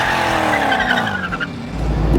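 A car doing a burnout gives out a loud, close tire squeal that rises and falls over a revving engine, with the engine roar swelling again at the end.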